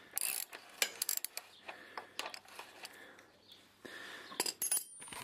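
Rear wheel axle nut being tightened on a Yamaha YZF-R125 motorcycle, with sparse metallic clicks and ratchet-like ticks in short irregular bursts, close and fairly quiet.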